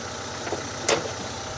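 A 2000 Honda Civic Ferio with a 1600cc SOHC VTEC engine idles steadily and quietly, a low even hum with one brief louder blip partway through.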